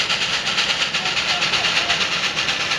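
A steam train passes close by with a loud, steady broadband roar and rhythmic rail clatter throughout.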